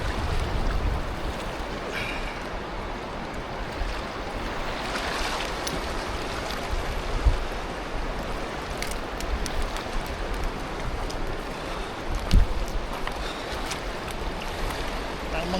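Water from a mountain stream rushes steadily near a cold campsite ringed by snowy mountains, a broad continuous wash with a couple of brief knocks.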